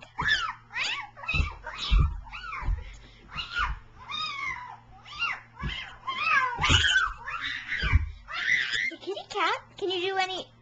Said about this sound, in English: now it's time for fun with Kitty Cat. This is basically where we bug that obnoxious kitty